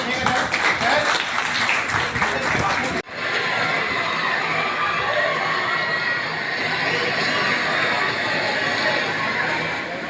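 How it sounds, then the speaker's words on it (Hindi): An audience at a children's sports celebration bursts into loud clapping and cheering, which breaks off briefly at about three seconds and continues as a steady crowd hubbub with scattered voices. "आपकी तालियां जो है आपकी तालियां"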